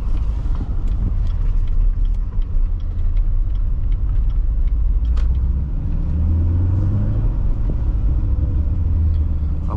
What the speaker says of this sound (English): Do I love a good big block V8?